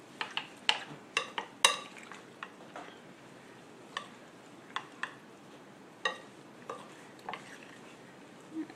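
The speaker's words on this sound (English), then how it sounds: "be careful not to stir it too vigorously" Spoon or spatula stirring turkey pot pie filling in a bowl, producing a series of sharp clinks and scrapes against the bowl at irregular intervals, close and fairly quiet, with no talking.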